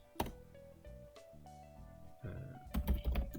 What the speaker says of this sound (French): Donc là c'est BR qu'il faut taper avec des crochets.